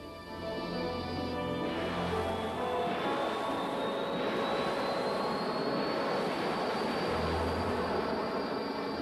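Allied bomber aircraft engines, B-29s of the Korean War era, drone in a loud continuous roar with a steady rising whine, sustained and unbroken throughout with no voices.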